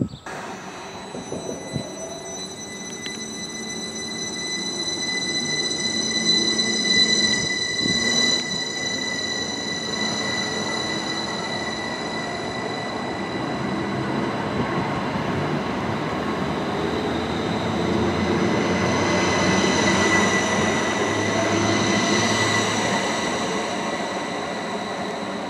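A Northern train moves through a West Yorkshire railway station with a long steady rumble of wheels on rails, swelling and squealing as it passes close by, and no talk over it.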